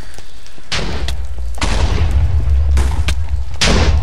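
Cannon firing in the video game Minecraft, loaded with gunpowder: four heavy, booming blasts go off at uneven intervals over a continuous low rumble, each with a sharp crack and a decaying tail.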